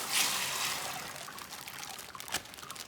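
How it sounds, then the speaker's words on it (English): Dried beans are poured into a pot of plain water, giving a brief rush of splashing followed by light trickling and a small plop, close and fairly quiet. "I am just pouring the beans into some plain water"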